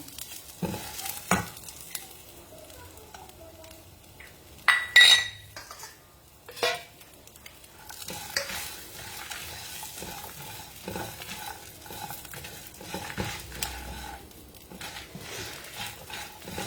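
Garlic, Byadagi and Guntur chillies and coconut fry in a pan, with a soft sizzle under repeated scraping and clinking of a metal spoon against the pan, some stirs louder than others, no talk.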